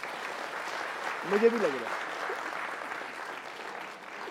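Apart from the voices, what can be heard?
audience clapping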